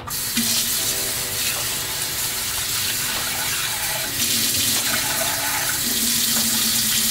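Running water splashes and churns steadily as hands swish and rub sea moss in it to wash out debris, close by and continuous with no talking.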